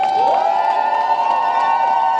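A crowd at a peaceful march in Geneva against violence in the DR Congo cheers loudly, with a sustained horn-like tone ringing above the noise of the crowd.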